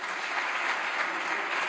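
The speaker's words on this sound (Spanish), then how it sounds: "Es que ustedes aplauden cualquier cosa y aplauden a cualquiera" A parliamentary chamber breaks into dense, steady applause, many hands clapping together in a continuous wash with no pauses.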